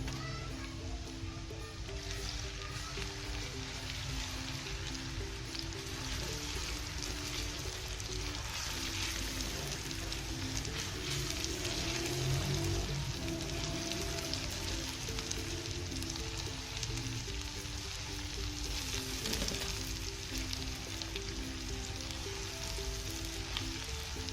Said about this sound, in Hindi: ये मैं अदरक लहसुन का पेस्ट डाल रही हूँ।